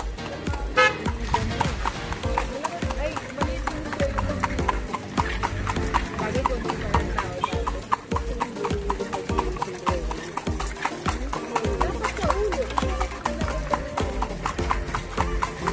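A horse pulling a kalesa carriage through Vigan City streets, hooves clip-clopping in a steady, close rhythm throughout, with people talking in the background.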